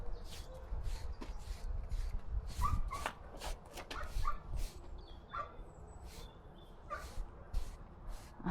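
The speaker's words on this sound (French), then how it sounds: "mon chien, il aboie parce qu'à côté, il y a une pension canine" Dogs at a neighbouring kennel make a stream of sharp yips and barks at irregular intervals, some near and some farther off, over a rumbling outdoor background.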